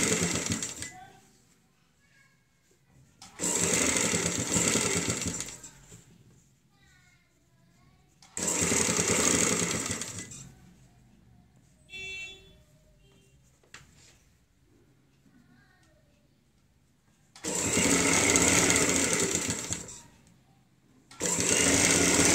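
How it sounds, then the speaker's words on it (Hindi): A sewing machine stitching a high neck collar patch on a kurti runs in four loud bursts separated by pauses, with a voice talking quietly between them. "ऐसे रखते हुए सिलाई लगाएंगे"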